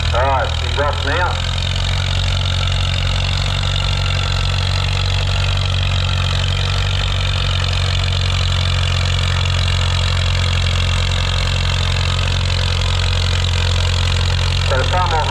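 A four-cylinder Farmall H petrol-kerosene tractor engine pulls hard in a steady, loud, close drone at a vintage tractor pull practice day, with a voice talking over it near the start and end.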